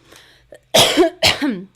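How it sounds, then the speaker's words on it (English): Two harsh, forceful coughs in quick succession, close by, after a brief faint throat sound. "Sorry, just coughing away."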